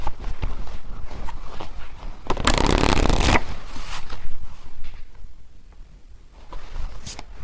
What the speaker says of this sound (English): Okay, I just shuffled these and these were at the bottom.